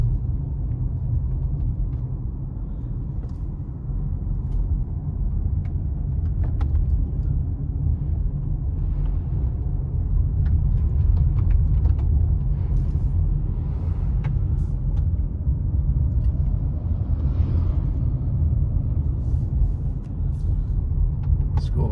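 Car driving the snowy roads around Big Bear Lake, Highway 18 toward Fawnskin, heard from inside as a continuous low engine and road rumble with faint ticks and rattles and no talking.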